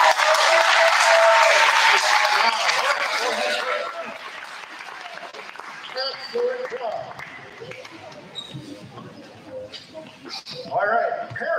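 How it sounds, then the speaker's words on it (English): Audience at a school geography challenge giving contestants a loud round of applause that fades after about four seconds, followed by scattered noises and talking. "let's give them all a big round of applause"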